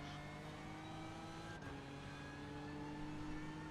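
Race car engine in the iRacing sim at the Nürburgring 24-hour race, a steady, loud electronic-sounding drone with stacked buzzing harmonics, like a fax machine, holding continuously throughout.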